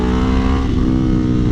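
A loud aftermarket car exhaust drones and revs up close, a steady rumbling roar with a brief rise in pitch partway through, heard alone without talk.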